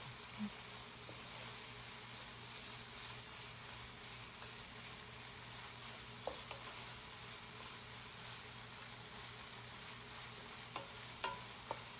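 Meat for pancit palabok fries in a pan and is stirred continuously, giving a faint, steady sizzling hiss with a few sharp utensil taps near the end.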